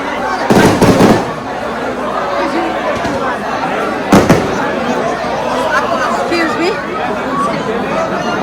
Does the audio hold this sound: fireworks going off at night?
yes